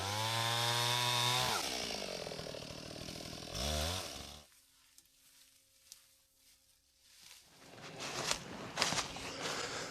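Chainsaw cutting through a fallen maple tree on a wildlife trail: loud, revving engine for the first few seconds, then a near-silent pause with faint buzz before the saw picks up again at lower level.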